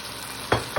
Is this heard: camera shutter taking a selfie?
no